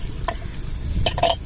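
Pounded meat dry-frying in a pan gives a brief low sizzle, with a couple of quick scraping clicks from stirring toward the end.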